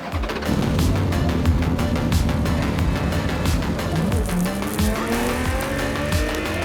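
An LMP2 race car runs flat out at around 200 miles an hour, its engine roaring loudly and continuously with rising and falling gear tones and rushing wind noise, close and without talk.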